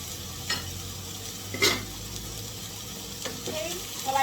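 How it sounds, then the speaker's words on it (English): Onions sizzle in a frying pan as they are stirred, a quiet steady hiss broken by a few scraping stir sounds, close and alone. "I'll stir the onions on the pan"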